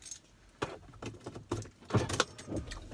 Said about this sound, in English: There's my keys.